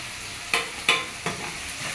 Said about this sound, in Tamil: இப்போ வந்து இறாவை அதில் போட்டுடணும்.